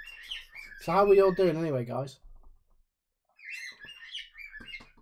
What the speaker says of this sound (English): The cockatiels in full swing.